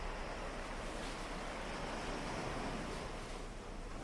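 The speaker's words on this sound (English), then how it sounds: "there's only the sound of sea waves out here." Steady, continuous wash of surf at a beach with a broad rushing hiss and low rumble, no voices, like waves rolling in nearby under a light wind.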